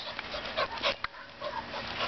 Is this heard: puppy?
yes